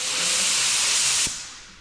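A loud, steady pressurized hiss of a paint spray gun runs for over a second, then cuts off abruptly, leaving a faint fading tail.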